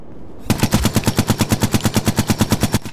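Sustained automatic gunfire in the shooter game Ghost Recon Future Soldier: a loud, rapid, evenly spaced burst of about twenty shots that starts abruptly and runs nearly three seconds.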